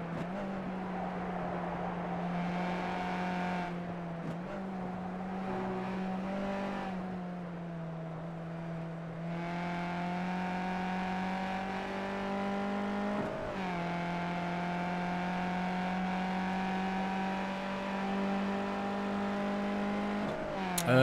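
A Formula E race car in the iRacing sim makes a steady electric whine that rises and falls in pitch as it accelerates and slows, continuous and moderately loud, with no talk.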